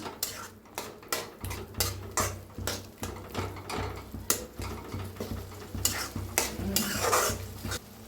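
Cauliflower and potato gravy sizzles and fries in a pan on a low flame, with a spoon stirring and scraping through it in repeated strokes over a steady low hum, close and moderately loud.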